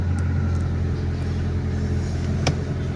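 A Mitsubishi Lancer GLXi engine idles steadily, a smooth low rumble held at a constant level throughout, with one brief faint click partway through.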